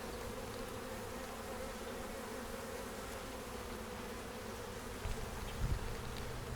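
Honey bees buzzing steadily around an open hive frame full of honey and brood, a dense continuous drone close by that holds level throughout, with a couple of brief louder bumps near the end.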